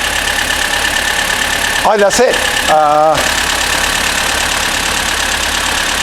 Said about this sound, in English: so we're still just warming up the engine